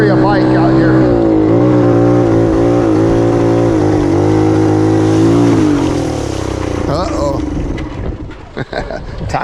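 A 1969 Honda Trail CT90 motorcycle labouring through quicksand, its engine loud and close with a steady revving drone that wavers in pitch, then drops off into sputtering and clatter near the end.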